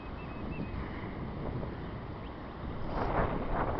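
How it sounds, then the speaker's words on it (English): Heavy wind blows outdoors through swaying trees, a steady broadband roar with some buffeting on the microphone that swells louder toward the end. "It is really windy out."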